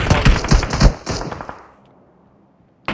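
Gunfire in a mobile shooter game played on an iPhone 13 Pro during an esports semi-final: a loud burst of rapid shots for about a second and a half, then near silence before another shot starts.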